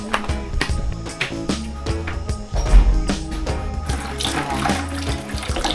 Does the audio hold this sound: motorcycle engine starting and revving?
no